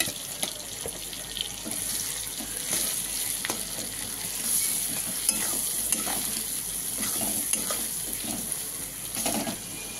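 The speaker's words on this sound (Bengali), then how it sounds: "সব মশলাটাই দিয়ে দেবো, দিয়ে একসঙ্গে কষা হবে" Onions with chili powder and coriander-cumin powder sautéing in a pan, a continuous close sizzle broken by stirring scrapes and utensil clinks, with no talking.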